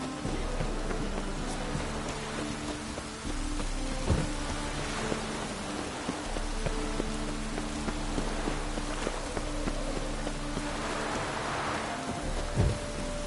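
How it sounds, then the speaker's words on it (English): Rain falling in The Witcher video game, a soft constant patter under a low steady game ambience, with faint footstep-like taps and occasional sharp clicks, quiet and continuous throughout. "Well, looked like it would rain, and here it is."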